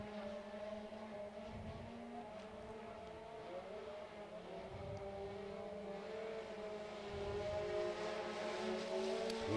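Four-cylinder race cars racing in a feature at Mountain Motor Speedway, a continuous loud engine drone with rising and falling pitch as the pack laps the track and builds louder toward the end.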